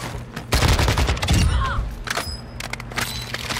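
Automatic pistol fire in a military first-person shooter video game, a loud close burst of rapid shots followed by thuds and fainter scattered effects. There is no talking.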